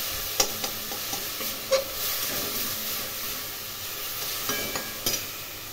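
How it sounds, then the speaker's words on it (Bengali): Mango chutney simmers on a low gas flame with a soft, steady sizzle and hiss, broken by a few sharp clinks of a utensil against the pan. "এখন আমি গ্যাসের ফ্লেম লো করে ঢাকা দিয়ে রান্না করে দেব।"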